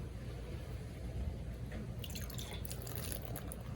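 Water is poured onto an Acer Chromebook during a durability test, giving a faint trickling, dripping sound over low background hum, with brighter splashy drips arriving in the latter half.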